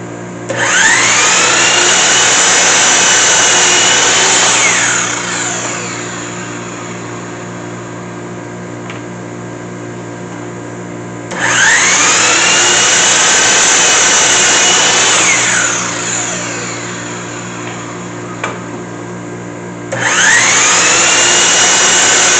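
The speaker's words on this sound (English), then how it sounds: "Turn on our dust collecting system." Shop Nation dust collector switching on and off in cycles, a loud hissing roar of suction that spools up quickly, runs steady for several seconds, then winds down to a lower hum before starting again.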